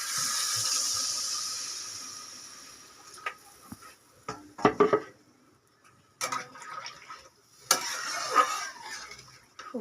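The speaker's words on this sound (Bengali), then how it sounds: "এবার আমি জল ঢেলে দেবো।" Water poured into a pot of fish curry, a brief splashing gush followed by scattered bursts of liquid and clatter, close and fairly quiet.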